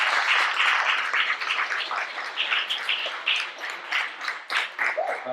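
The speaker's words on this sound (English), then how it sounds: "Keep the applause going for all the awards that came today." An audience applauds at an African Liberation Day gathering in Oakland, California, with sustained clapping that swells and dips over several seconds, fairly close and continuous.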